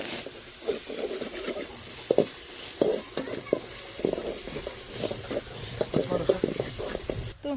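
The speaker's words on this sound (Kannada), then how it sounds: "ಈರುಳ್ಳಿ ಸ್ವಲ್ಪ ಈಗ ಫ್ರೈ ಮಾಡ್ಕೊಳ್ಳೋಣ" Chopped onion fries in a pan with a moderate, crackling sizzle broken by repeated stirring knocks and scrapes at an uneven rhythm, heard close with no talking.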